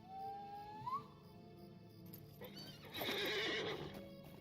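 A horse in the video game Lord of the Rings Online gives a rising whinny, followed by a shuffle of hooves and a louder burst of stamping and snorting, close and with no talk.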